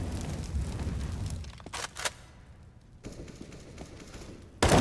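Gunfire in Counter-Strike on the Mirage map during a competitive match, with a few sharp shots and short bursts between quieter stretches and a loud burst at the end.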